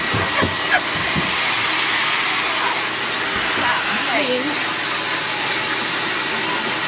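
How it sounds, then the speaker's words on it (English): A vacuum cleaner runs loud and close, a constant broadband whooshing roar that holds steady throughout, with faint voices under it. "trying to bite the vacuum"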